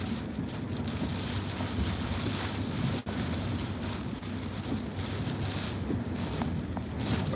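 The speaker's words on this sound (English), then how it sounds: "oh, big gust." Hurricane Ida's Category 4 winds roar steadily around a storm-chase vehicle in Louisiana, a dense broadband rush with rain-like hiss, loud and unbroken, with a sharp knock partway through.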